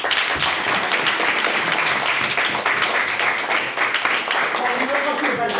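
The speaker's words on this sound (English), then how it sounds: "So round of applause there." An audience claps through a debate event, a dense continuous wash of applause with voices mixed in underneath.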